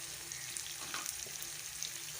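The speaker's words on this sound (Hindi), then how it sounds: "माशाल्लाह प्याज फ्राई हो चुके हैं, साथ हरी मिर्चें भी फ्राई हो चुकी हैं।" Onions and green chillies fry in a pan, a faint, soft sizzle with a few light stirring scrapes and no voices.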